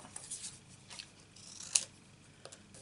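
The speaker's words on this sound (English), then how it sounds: "And now we have to cut all this out." Scissors snipping paper craft pieces for a stamped flowering rain boots project, a few quiet close snips with one sharper cut in the middle, and no talking.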